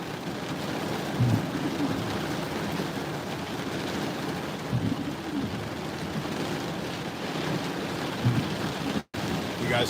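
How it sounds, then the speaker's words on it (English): Heavy rain pours onto a parking lot during a storm, a dense continuous hiss with a few louder gusts and a brief dropout near the end. "But look at all the rain."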